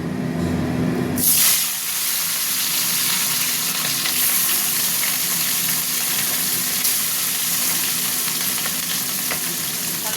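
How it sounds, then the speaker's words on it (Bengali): Fish slid into hot mustard oil erupts into a loud, dense sizzle that starts abruptly and then holds as a steady close hiss and crackle, with no talking. "সর্ষের তেলে মাছটাও ভাজবো। তেলটা গরম হোক তেলটা। এবার মাছ দিয়ে দিচ্ছি।"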